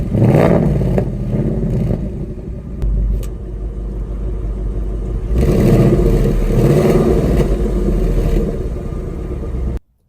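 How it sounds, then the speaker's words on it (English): A 2019 Ford Mustang Bullitt V8 with its active valve exhaust revs and rumbles up close, the note swelling in a few bursts before cutting abruptly near the end as the exhaust is switched from normal to quiet mode. "Take a listen to the way that the exhaust differs when I go from normal mode to quiet mode."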